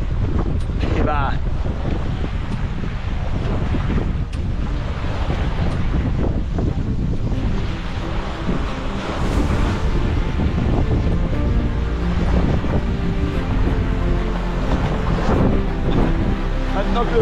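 Strong wind buffets the microphone aboard a sailboat, a loud, constant roaring gust with water sloshing against the hull underneath.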